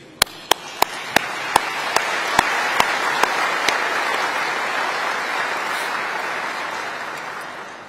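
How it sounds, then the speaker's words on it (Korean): Applause at a Korea–Turkmenistan business forum: a few sharp individual claps open it, then the whole audience joins in a steady, full round of clapping that swells and holds. "양국 경제인 여러분께 다시 한번 큰 박수를 보내드립니다"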